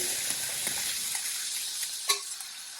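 Vegetable biryani with spices browning in a hot pan with no oil, giving a steady close hiss of frying and a few light stirring scrapes, with no voices.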